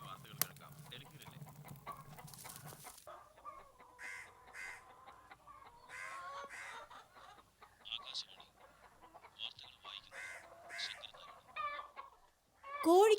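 Chickens cluck softly in short, scattered bursts in a quiet domestic setting, with faint voices around them and a louder burst at the very end.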